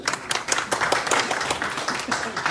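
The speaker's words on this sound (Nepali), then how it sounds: "कृपया ताली बजाइदिनु होला।" Audience clapping at an NRNA Japan 2021–2023 oath-taking ceremony, a brisk spread of handclaps with uneven rhythm filling the room, moderately loud and steady throughout.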